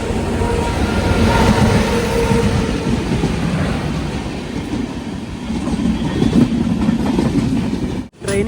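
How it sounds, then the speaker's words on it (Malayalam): A passenger train running on the Konkan Railway in rain, a loud, continuous rumble and roar of wheels and carriage noise heard from inside, steady throughout before a sudden brief dip near the end. "ട്രെയിനിപ്പോൾ വിലവാടി സ്റ്റേഷനിലേക്ക് എത്തുകയാണ്."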